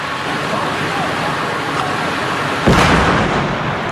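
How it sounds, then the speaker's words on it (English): A police flash grenade goes off during an arrest in Atlanta, Georgia, a single sharp bang over steady traffic-like street noise and background voices. "They just tasered him and flash grenaded him"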